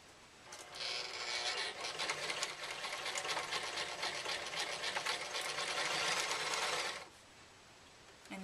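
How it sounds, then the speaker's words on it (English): A sewing machine stitches one straight line through two layers of fabric for a small project bag, whirring steadily and close for about six seconds before stopping. "do one straight line, making sure that I am only sewing through 2 pieces of fabric"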